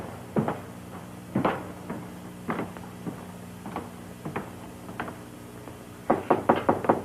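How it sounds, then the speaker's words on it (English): Knuckles rap on a wooden door in a 1950s crime drama: several separate bursts of two or three knocks, then a faster run of knocks at the end, close and fairly loud in a quiet room. "Better knock before you go in."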